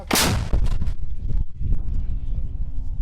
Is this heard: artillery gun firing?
yes